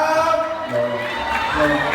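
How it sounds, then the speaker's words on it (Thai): Audience at a Thai ornamental-plant contest held by a university management faculty claps and cheers in welcome, a dense continuous crowd roar with whoops and shouts, steady and fairly loud throughout. "ขอเสียงปรบมือต้อนรับ"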